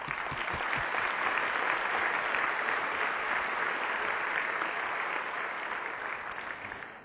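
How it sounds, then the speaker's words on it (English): A conference audience at a Houston partnership's annual meeting gives a steady round of applause. The clapping is dense and even, and tapers slightly toward the end. "Please give them a round of applause."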